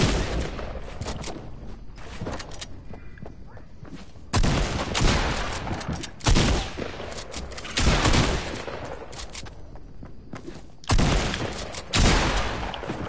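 Shotgun fire in a multiplayer shooter video game, with loud, sharp blasts booming out one at a time every couple of seconds amid quieter in-game noise.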